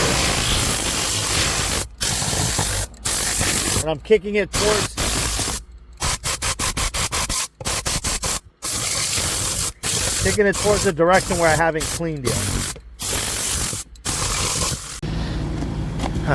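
Loud, steady hiss of compressed air blasting debris out of a car interior during detailing, broken by short pauses, with someone talking in between bursts.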